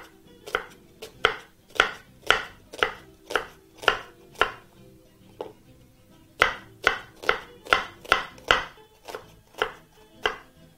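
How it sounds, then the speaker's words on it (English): A knife chops red onion on a board in a home kitchen, steady sharp taps in quick runs with a short pause midway, close and alone. "we're going to proceed to chop some red onion"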